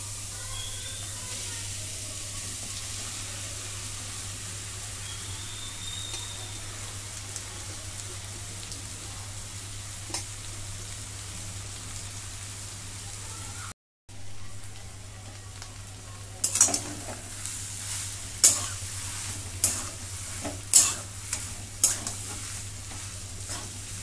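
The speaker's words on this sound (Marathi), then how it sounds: "सर्व आता मसाला मी मिक्स करून घेते" Potato filling is stirred with masala in a frying pan for samosas, with a faint, steady low sizzle and a run of soft, sharp scraping clicks of the spoon near the end.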